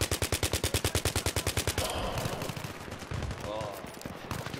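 UMP submachine gun in Battlefield 3 fires a rapid, evenly spaced burst of loud shots for about two seconds, followed by rumbling game noise and scattered distant gunfire; a voice speaks briefly under it.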